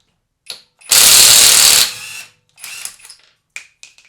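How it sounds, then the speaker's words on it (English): A WORKPRO brushless cordless impact wrench hammers loose a lug nut in one loud, close burst of about a second, followed by shorter whirring spins and brief trigger pulls. "This is a very strong impact wrench."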